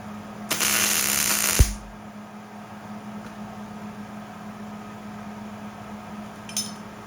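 A short burst of harsh power-tool grinding on metal parts of a 1950s Sears roto-spader tiller, loud and close for about a second, then cutting off into quiet room tone with a faint clink near the end.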